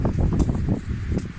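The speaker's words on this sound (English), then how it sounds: "Today is extremely windy." Strong wind blows hard across an open South African homestead, a steady, loud low roar with gusty swells and faint rustling, with no voices.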